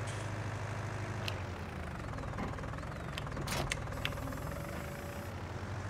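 A tractor engine in the Farming Simulator 19 video game idles in a faint, steady low hum, with a few sharp clicks scattered over it.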